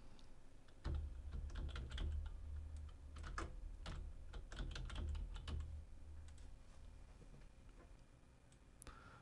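Quick, irregular keystrokes on a computer keyboard while a search for disk cleanup is entered in Windows 10, with close, crisp clicks in short bursts over a quiet background.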